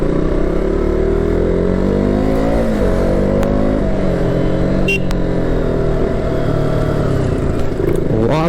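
A KTM Duke 200 motorcycle rides along an open road, its engine loud and close, with pitch rising and falling as the rider moves through throttle and gears, plus rushing wind noise.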